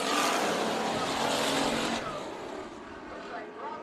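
American stock cars roaring around Bakersfield Speedway in a heat race, a dense, far-off pack of engines that fades slightly after a couple of seconds, under a commentator's continuous talk.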